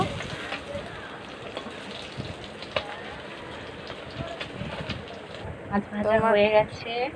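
Fish fries in hot oil with a continuous rain-like crackling sizzle and scattered pops, and a voice briefly talks near the end.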